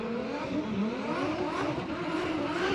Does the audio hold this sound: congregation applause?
no